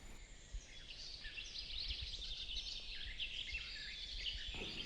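Faint, high-pitched sparrow chirps twittering continuously over a steady background hiss, with no voices.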